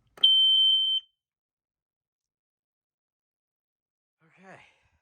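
A BRK 79R-style home smoke alarm gives one short, piercing electronic tone lasting under a second, followed by silence and then a brief, faint breathy sigh.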